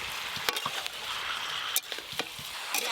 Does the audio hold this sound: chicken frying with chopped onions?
yes